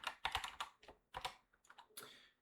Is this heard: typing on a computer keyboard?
yes